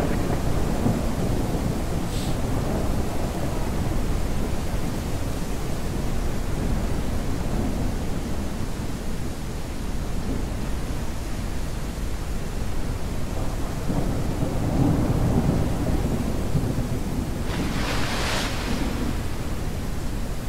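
A thunderstorm in the dinosaur survival game Beasts of Bermuda: steady heavy rain-like roar with deep rumbling, loud and continuous, swelling briefly around two bursts of brighter crackle.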